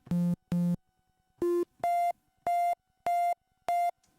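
Synthesizer playing a single triangle-wave oscillator on an init patch with no noise. Short, clean, hollow beeps sound one after another, two low, then one mid, then four higher repeated tones, each separated by silence.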